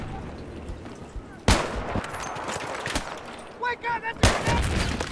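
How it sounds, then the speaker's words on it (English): Gunfire rattles in a Battlefield 3 multiplayer match, then a sharp, loud grenade blast bursts nearby, followed by another heavy impact amid scattered shots and brief beeping tones. "Oh, there we go, I got grenaded."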